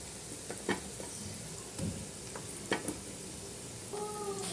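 Onions sauté in a pan as Maggi cubes are added, making a steady close sizzle with occasional utensil clicks and scrapes, and a brief tonal squeak near the end.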